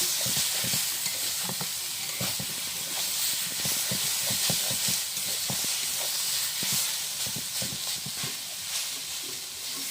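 Khesari greens frying in a pan, a constant loud hiss and sizzle of steam with rhythmic scraping and knocking as they are stirred over and over, close and without talk.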